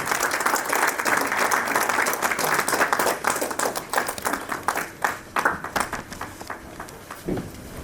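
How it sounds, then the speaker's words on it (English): Audience applause after a trophy presentation at an award ceremony: sustained dense clapping from a large crowd that gradually thins into scattered claps near the end. "Please give a round of applause."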